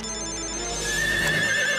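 A phone rings with a bright electronic ringtone that swells in loudness, no talking over it.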